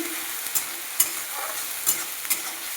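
A spice mixture with coriander leaves and chopped tomato sautéing in a pan, a close sizzle punctuated by four crisp spatula scrapes and taps as it is stirred.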